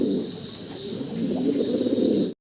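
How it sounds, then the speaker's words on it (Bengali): A pair of large Syrian Safari fancy pigeons cooing steadily up close, a continuous low throaty rolling coo with faint chirps over it and no talk. "বিশাল সাইজের ভিতরে একজোড়া কবুতর দেখাচ্ছি আপনাদেরকে"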